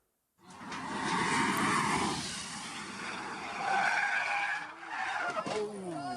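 A £2 million supercar skids out of control at high speed on an Alpine road in Switzerland, with loud tyre squeal and engine roar rising and falling over several seconds before a sudden harsh burst.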